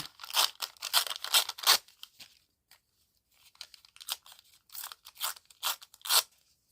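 Brown paper is cut and torn close by in bursts of crisp snipping and ripping, with short pauses between strokes and quiet gaps in the middle.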